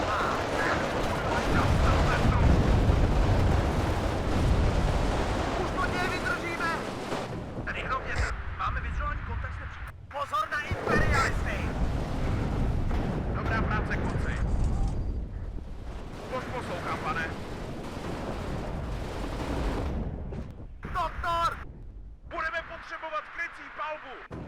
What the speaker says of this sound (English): That's not a good engagement from a mortar shot